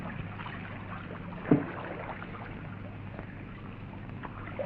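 River waves lapping against a boat in a 1944 film recording: a steady, muffled watery wash under heavy hiss, broken by a single soft knock.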